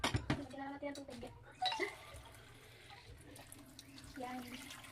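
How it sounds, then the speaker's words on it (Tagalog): Water runs from a tap into a pot while someone talks in a home kitchen setting, a soft splashing stream under intermittent speech. "Lagyan na natin ang tubig."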